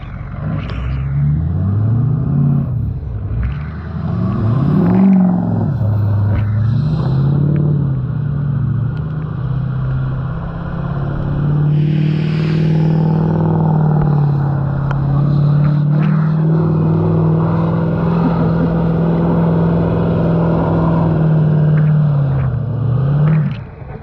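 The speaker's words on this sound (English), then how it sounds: "great conditions for riding pit bikes" Pit bikes ride in the snow in a driveway, a loud, close engine drone that rises and falls with repeated revs before holding a steady pitch.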